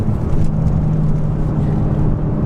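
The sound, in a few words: rear-wheel-drive BMW M6 car accelerating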